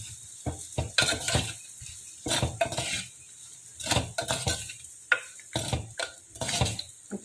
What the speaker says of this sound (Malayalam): ഇനി നമ്മളിത് ഗ്രേറ്റ് ചെയ്ത് വെച്ച കായ ഉണ്ടല്ലോ, അത് ഇതിലേക്ക് ഇട്ട് കൊടുക്കാം. നന്നായിട്ടൊന്ന് ഇളക്കി കൊടുക്കുക.